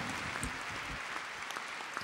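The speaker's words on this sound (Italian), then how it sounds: "quindi un altro applauso ancora" Conference audience applauding at an afternoon session, a steady wash of clapping throughout with no one speaking over it.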